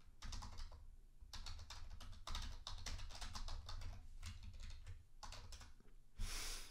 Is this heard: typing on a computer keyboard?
yes